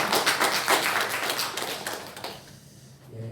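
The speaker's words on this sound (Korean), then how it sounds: "우리 박수로 격려해 주시기 바랍니다" Church congregation applauding during a Sunday service, a full burst of clapping that thins out and fades toward the end, followed by a brief low sound.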